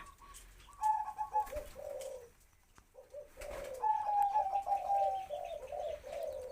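Spotted dove from a wild-coloured breeding pair cooing in rhythmic, throaty phrases, two clear bursts separated by a short pause, fairly close and with no talk.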